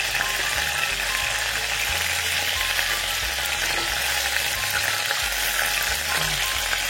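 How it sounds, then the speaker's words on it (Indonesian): Chicken frying in hot oil with shallots, garlic, onion and ginger, a continuous bright sizzle with occasional low stirring knocks, close and steady with no talking. "Goreng ayam ini ada bawang merah, bawang putih, bawang bombay, dan jahe."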